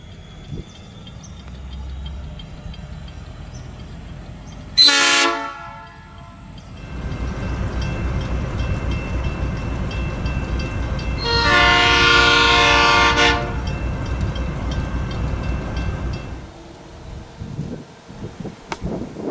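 Nathan P3 air horn on a Westrail narrow-gauge locomotive, two loud chime blasts, a short one then a longer sustained one, over a steady rumbling engine and rail noise.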